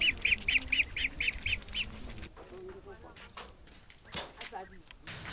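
Domestic ducks near a thatched hut give a rapid series of about eight nasal quacks, fairly close, then fall quiet as scattered rustles and knocks follow.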